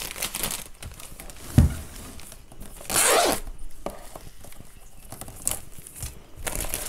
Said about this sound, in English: It's going to take this plastic film off.